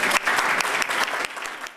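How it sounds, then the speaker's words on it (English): An audience applauds Dr. Joseph T. Salerno with brisk, dense clapping at moderate volume. The applause fades slightly as it ends, and no voices are heard. "please, let's give another round of applause for Dr."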